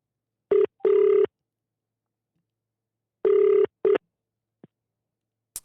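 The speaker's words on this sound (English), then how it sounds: "Let me just give him a call." Telephone tones from a call being placed in a radio studio: a few short electronic tone bursts in two pairs separated by silence, clear and close, then a faint brief blip.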